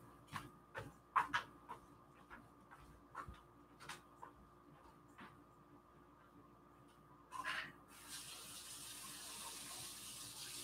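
Water from a tap runs into a sink for the last few seconds, a steady close gush after scattered quiet knocks and clatter.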